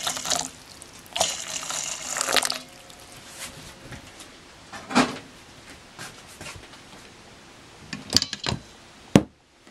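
Boiling water pours into a large bowl while baking a honey castella cake, a splashing, running stream for the first few seconds, then quieter with a few scattered knocks and taps near the end.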